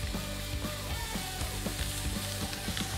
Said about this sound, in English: Okay, got my cast iron pan. I got a little butter that I've browned in the pan.